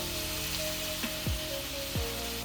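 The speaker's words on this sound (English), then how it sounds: "After the onions cook down for a little bit, I'm just gonna add my ground pork." Ground pork and diced onion fry in a pan, a soft, steady sizzle crackling close by, broken by a few low sliding scrapes as the mix is stirred.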